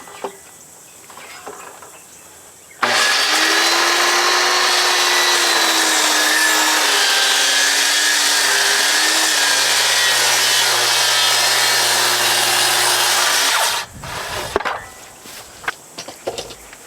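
A hand saw cuts wood for a Japanese scarf joint in a steady, loud, continuous rasping stroke lasting about eleven seconds, close up, with quieter handling noises before and after.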